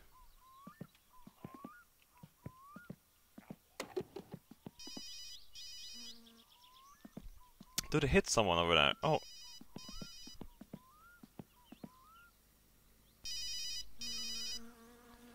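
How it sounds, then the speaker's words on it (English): Telephone ringing inside the video game My Summer Car, repeated bursts of a bright electronic ring that come and go under frequent nearby talk and other game sounds. "Onto the phone! It's still calling."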